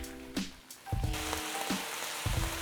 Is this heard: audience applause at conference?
no